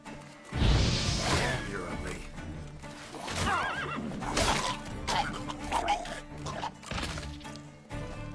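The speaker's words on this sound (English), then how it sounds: "No, that's our horse. You don't hurt our horse." A horse neighs loudly in the Fortnite video game, its whinny rising over layered game effects and music while voices talk intermittently.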